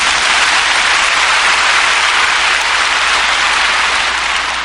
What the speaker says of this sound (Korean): 한번 힘차게 박수합시다